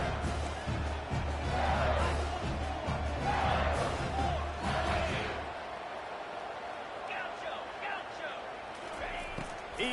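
A roaring stadium crowd at a football game keeps up loud, sustained yelling for several seconds before easing to a softer murmur, with people talking over it.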